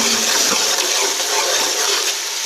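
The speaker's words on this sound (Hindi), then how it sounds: "अब हम इस स्टेज पे इसमें शामिल करेंगे ये लहसुन का पानी" Water blended with ground garlic poured into a pot of Punjabi chana dal khichdi, a loud, continuous gushing splash close by for about two seconds.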